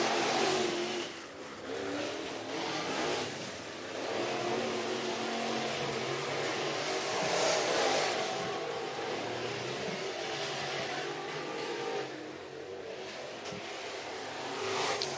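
Race cars roar through a hot lap qualifier at Sugar Creek Raceway, engines revving loud and steady for the whole stretch, with swells as cars pass nearby.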